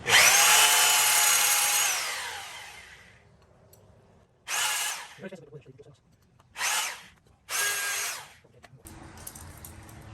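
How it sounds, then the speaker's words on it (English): A rotary hammer with a large masonry bit whines loudly, then grinds into brick and concrete in three separate bursts, with quieter rubbing and handling noises between them. "Be very careful on the rotary hammer."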